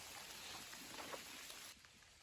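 Steady rain patters across the Appalachian Trail, a dense, even hiss of drops with a few louder taps, easing slightly near the end with no voices.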